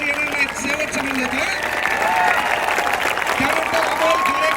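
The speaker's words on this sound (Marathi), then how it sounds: "एकदा जोरदार टाळ्या वाजवा." A crowd of students at a protest rally in Chhatrapati Sambhajinagar claps together in a steady roar, with voices and cheers mixed into the applause.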